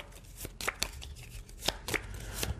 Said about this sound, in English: I'm definitely going to shuffle this time